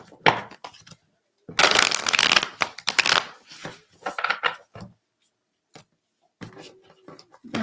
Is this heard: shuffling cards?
yes